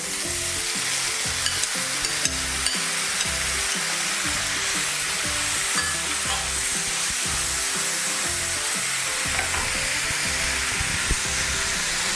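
Chopped tomato sizzles and fries in a hot pan for Ayurvedic tomato chutney, a steady, close, dense crackling hiss with faint stirring, no talking.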